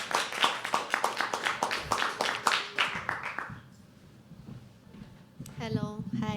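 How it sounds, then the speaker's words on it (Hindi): Dense burst of audience clapping at a live poetry open mic, loud and close, lasting about three seconds before fading out, followed by a person beginning to speak. "जोरदार तालियों के साथ"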